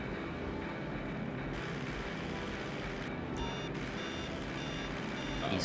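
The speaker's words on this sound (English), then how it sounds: "Been beeping like crazy." Repeated electronic warning beeps in GTA Online while flying, a steady train of short tones over constant engine-like drone throughout.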